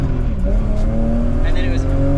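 A BMW E36 drift car revving hard, its engine note climbing steadily while the tires squeal, loud and close with talk over it.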